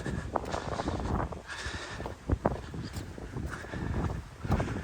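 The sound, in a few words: wind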